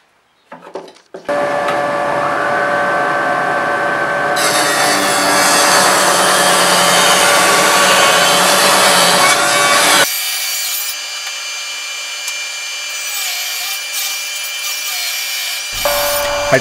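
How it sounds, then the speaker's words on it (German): A hand saw cuts a groove into wood for a box bottom in a workshop, steady rasping strokes that are close and loud, running continuously before a brief pause. "Was ich beinahe vergessen hätte, ist eine Nut für den Boden hineinzusägen."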